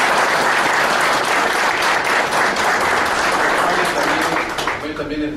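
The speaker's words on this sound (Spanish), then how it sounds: "Vamos a recibirlo con un fuerte aplauso" An audience at a forensic art lecture breaks into loud, sustained applause to welcome a speaker, a dense wash of clapping throughout that eases slightly near the end as a voice begins over it.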